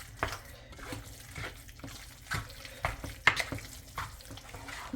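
Water poured into a bowl of beans for a taco salad, a soft uneven splashing trickle in short bursts, fairly quiet and close.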